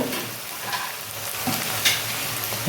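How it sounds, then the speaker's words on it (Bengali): Onions frying until brown for aloo dum, a loud close sizzle with stirring scrapes and a few sharper clinks of a spoon against the pan. "পেঁয়াজটা জাস্ট একটু ভেজে নেব"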